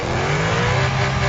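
Simulated car engine revving steadily on a dyno in Car Parking Multiplayer 2, a loud sustained high-RPM drone with a strong low harmonic, heard alone with no talk.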